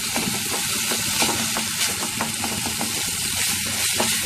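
Egg halwa (dimer mihidana) frying in ghee is stirred in a pan, giving a steady sizzle broken by repeated scraping strokes of the spoon, close and fairly loud with no voices.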